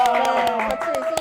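A few scattered hand claps from a small group of team members in a radio studio, light and uneven, running beneath a speaking voice that carries on throughout.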